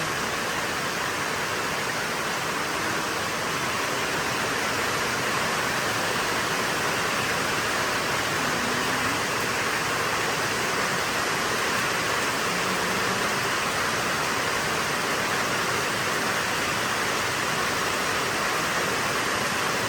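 A steady, full rush of flowing water over a dam, loud and close, continuing unchanged the whole time with no voices, during a storm with heavy rain.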